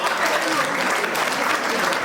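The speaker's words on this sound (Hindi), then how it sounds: "ताली बजाओ सब।" Steady applause from a college fresher party audience at a Rajasthan university department event, dense continuous clapping filling the whole stretch at moderate loudness.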